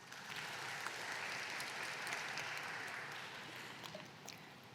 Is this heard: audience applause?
yes